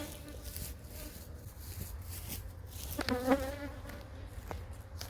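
Bees hum inside an opened hive box during an inspection, a soft, steady buzzing close by with a brief louder burst near the middle, no talking.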